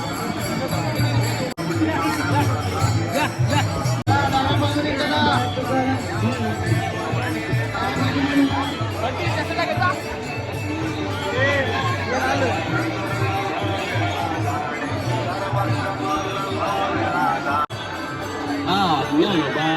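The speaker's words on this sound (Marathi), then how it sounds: "खूप अशी गर्दी आहे वारीला दिंड्या भरपूर अशा आहेत" Dense crowd chatter from pilgrims at the Wari procession around the Vitthal-Rukmini temple, a steady babble of many voices filling the whole stretch, close and loud.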